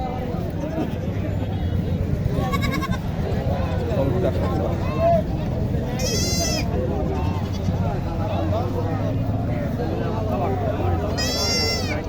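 Goats bleat in short, nasal bursts at a crowded rural livestock market, with a few sharp cries standing out over steady crowd chatter and people talking nearby.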